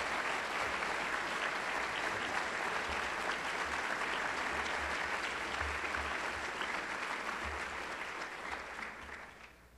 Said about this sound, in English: give a big round of applause to the Minnesota Orchestra